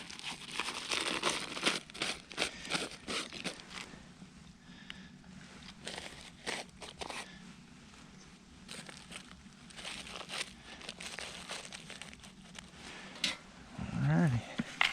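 Wax paper for a cat trap crinkles and tears in a run of sharp, irregular rustling bursts that fade and return, close to the listener, with a faint low voice underneath.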